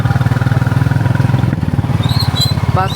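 A motorcycle riding along a road after heavy rain, its engine putting out a loud, steady, close pulsing thrum, with a few brief high squeaks near the end.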